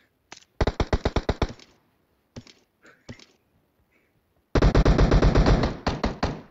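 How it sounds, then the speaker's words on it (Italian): Automatic gunfire rings out in the mobile battle-royale game PUBG Mobile. Loud, rapid bursts rattle off, then a few single shots, then a long, heavy burst of automatic fire with sharp, evenly spaced cracks. "Tutti sti spari. Questa sparamazione."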